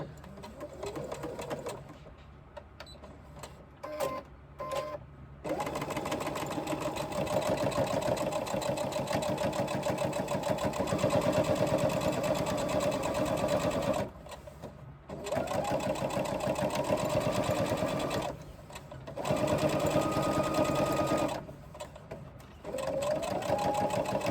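Sewing machine top-stitching across a seam through all the seam allowances, a fast steady mechanical whir in several long runs broken by short pauses, fairly quiet and close.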